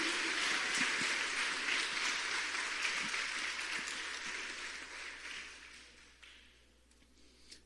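Congregation applauding in a church, a dense steady wash of clapping that holds loud for several seconds and then fades and thins toward the end.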